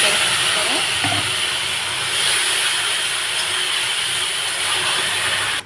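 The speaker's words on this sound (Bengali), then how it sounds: "এই যে দেখুন মশলাটা মোটামুটি ভাজা হয়ে গেছে, মশলাটা ভাজছি।" Spices and bay leaves frying in a pan, a loud continuous hissing sizzle with a few faint clicks of a utensil, holding steady before cutting off abruptly at the end.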